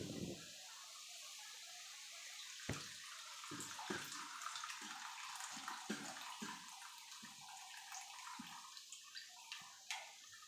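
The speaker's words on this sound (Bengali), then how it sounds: "জলটা ফুটে গেছে, এবার এটা আমি এতে ঢেলে দিচ্ছি।" Freshly boiled water is poured into a container, a soft continuous splashing stream with scattered small knocks and taps, faint and close, without speech.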